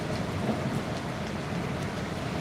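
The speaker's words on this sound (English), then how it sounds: "It's still raining a little bit." Steady, even hiss of light rain, continuous and moderately close, with no voices.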